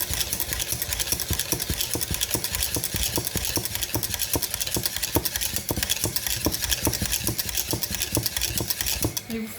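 A utensil scrapes rhythmically around a saucepan in quick, steady figure-eight stirring strokes, with a constant background hum.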